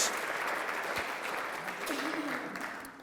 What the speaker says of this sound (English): let's give a round of applause for our sponsors